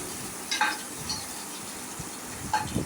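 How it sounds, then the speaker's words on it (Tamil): Green chili, a large onion and curry leaves sautéing in a pan for banana flower biryani, with a few soft stirring scrapes and light clinks over a quiet background hiss. "பச்சை மிளகா, ஒரு பெரிய வெங்காயம், கருவேப்பிலை இதை போட்டு நல்லா வதக்கிட்டு"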